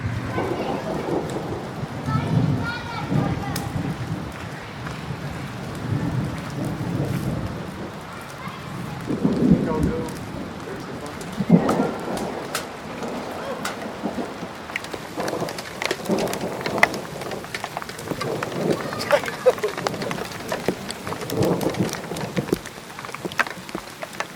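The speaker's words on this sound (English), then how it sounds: "We have hail." Hail pelts down steadily on a vehicle in the Colorado mountains during a July overlanding trip, a dense loud drumming with a heavy rumbling wash and occasional sharper hits, continuing without break throughout.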